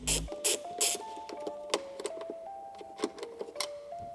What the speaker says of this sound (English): Next, we're gonna remove these 2 bolts.